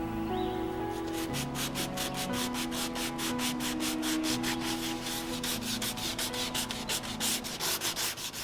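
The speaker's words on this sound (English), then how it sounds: "I'll use a 150 grit sanding pad to reduce any minor swirl marks left behind" A 150 grit sanding pad rubs rhythmically over the wooden cabinet of an antique sewing machine, making steady, close scratchy strokes repeated in quick even passes.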